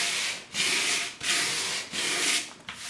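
Hand sanding of a stenciled project, four rhythmic back-and-forth rasping strokes with short pauses between, close and fairly loud with no talk.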